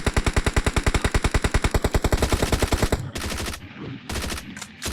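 Rapid automatic gunfire from a video game, a loud steady burst of evenly spaced shots for about three seconds, followed by scattered bangs, explosions and game action noise.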